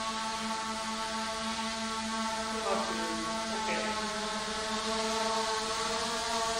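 A Skydio 2 drone flies backward with throttle eased during an indoor drone competition, giving a steady high-pitched rotor whine with a constant hum throughout and a slight pitch shift partway through.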